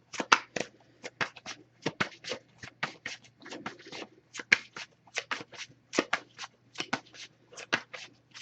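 Tarot cards are shuffled in quick, crisp riffling bursts, a rapid irregular patter of flicks repeating for several seconds, close up with no talking.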